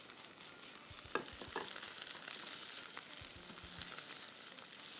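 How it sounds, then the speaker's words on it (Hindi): Chopped mushrooms sautéing in oil in a pan, a soft steady sizzle with a few light stirring knocks and spatula taps, quiet and without talk. "अब साथ ही में यहाँ पर चॉप्ड मेरे पास हैं मशरूम्स, चॉप्ड मशरूम्स। तो अच्छे तरीके से आपने यहाँ सॉटे करना है।"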